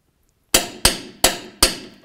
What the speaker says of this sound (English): Now we can torque this rear bolt to 130 foot-pounds.